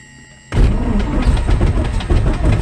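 Citabria 7ECA light airplane engine cranking on the starter and catching, a loud, steady rumbling roar that bursts in abruptly after a brief quiet lead-in and runs continuously to the end.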